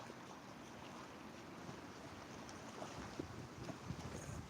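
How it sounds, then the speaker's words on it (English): Choppy water stirred by wind on a breezy day, waves and wind noise forming a steady broadband wash at moderate level, with small splashes and gusts near the end and no voices. "It's been a little bit windy, so the water's a little bit choppy out there."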